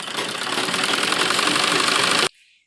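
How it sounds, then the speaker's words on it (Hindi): A sewing machine stitches the lining of the back piece of a suit with a steady, loud, close mechanical whir that runs for about two seconds and then stops abruptly. "और इसी तरह पीछे के पीस में भी हमें सिलाई लगानी है अस्तर में।"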